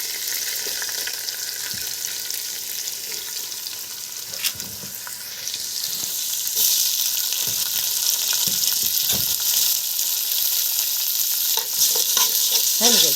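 Rice is stirred and fried in butter, ghee or oil in a pot, giving a steady close sizzle with scraping spoon strokes throughout and no talk.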